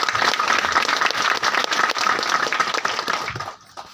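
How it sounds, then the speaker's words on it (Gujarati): A crowd at a business meeting breaks into loud, dense clapping that holds steady for several seconds, then thins and fades toward the end. "મીટિંગની શરૂઆત કરાવી એના માટે જોરદાર તાળી."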